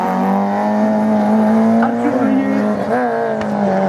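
Citroën Saxo race car on a slalom course, engine loud and near, revving and shifting pitch through turns with a brief tyre squeal, a voice faintly underneath.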